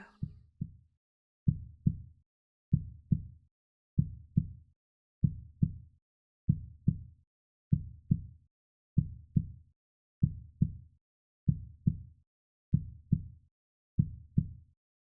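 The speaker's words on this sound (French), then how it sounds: "Concentrez-vous maintenant sur le son de ces battements de cœur." Steady, slow heartbeat with paired low thumps repeating regularly, clear and close, with nothing else heard.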